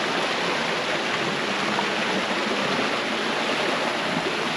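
Mountain stream rushing through the Alfarja ravine, a steady, close, full-bodied wash of flowing water that stays constant throughout with no voices.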